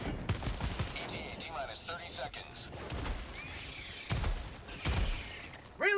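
Shotgun fire in Helldivers II, several loud booming blasts spread irregularly across a busy game-battle soundscape, with people talking over the action.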